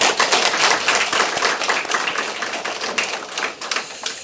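An audience at a Korean temple dharma service applauds, producing a dense, steady clatter of many hands clapping nearby that gradually thins out toward the end.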